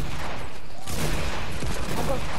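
Heavy shotgun blasts in a video game, a couple of sharp booming shots over a constant din of in-game noise, with faint voices talking underneath.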